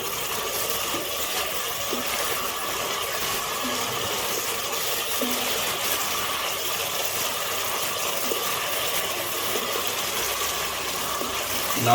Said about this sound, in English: Now I'm going to add more water.